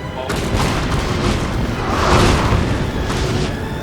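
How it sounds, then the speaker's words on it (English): Artillery bombardment in a Prussian-versus-French strategy game, with dense rumbling booms and overlapping gunfire forming a loud, continuous barrage that swells midway, a voice faintly mixed in. "your square formation's just getting like bombarded to hell right now"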